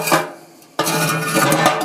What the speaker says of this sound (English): So I'm going to put the pot.